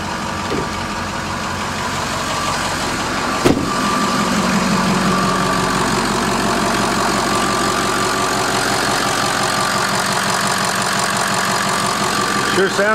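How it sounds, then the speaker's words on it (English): A Ford 6.0 Powerstroke diesel truck idles nearby with a loud, steady, knocking clatter, preceded by a brief sharp transient as it fires up, then runs evenly throughout. "we'll go ahead and start the truck"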